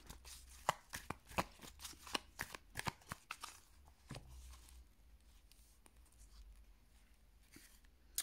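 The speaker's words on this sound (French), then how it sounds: "On va faire une coupe et on va regarder ce qu'elle nous dit" A deck of tarot cards being cut and shuffled: a run of crisp, close card slaps and riffles, then a quieter stretch with faint handling noise and one last tap.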